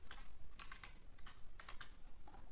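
Keys clatter on a computer keyboard as code is typed in a Python programming session, a steady run of quick soft clicks over a faint constant background hum, with no talking.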